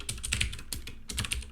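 Quick bursts of keystrokes on a computer keyboard during a live coding session, clattering in short irregular runs with small pauses between them, close and fairly loud, no voices.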